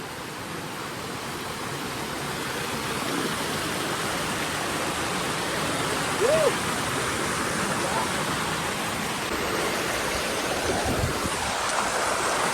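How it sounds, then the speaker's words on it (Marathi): A waterfall in Navi Mumbai heard from right beneath it, a loud, steady, dense roar of falling water filling the whole clip, with a faint voice briefly heard within it. "आपण धबधब्याच्या खाली बघा"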